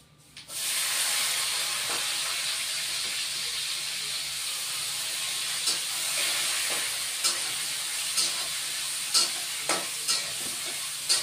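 Onions hit hot oil in a pan with a sudden loud sizzle that settles into a steady bright hiss, while occasional scraping stirs tap through it toward the end.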